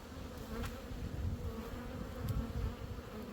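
Honey bees humming around an open hive during a weekly check, a close, steady buzzing drone with individual bees passing near the microphone.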